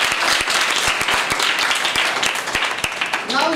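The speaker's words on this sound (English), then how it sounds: "Give her a big round of applause." Applause from a school classroom for a student's answer, a dense patter of many hands clapping steadily for a few seconds, fading slightly near the end as a voice begins.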